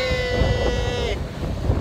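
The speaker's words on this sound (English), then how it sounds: "we're on the beach in Nice, and it's windy as hell" Strong wind buffets the microphone on the beach in Nice, a steady roaring rush with surf, while a high tonal whine fades out partway through.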